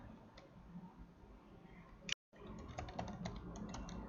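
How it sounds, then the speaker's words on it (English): Soft, quick keystrokes on a computer keyboard while entering text into Microsoft PowerPoint, a steady run of faint clicks broken by one brief pause. "you type in what you want to type"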